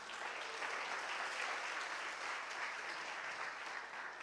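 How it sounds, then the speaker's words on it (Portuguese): Steady applause from a church congregation, a dense, even wash of many hands clapping that holds at a constant level throughout without a break. "Aplauda o Senhor."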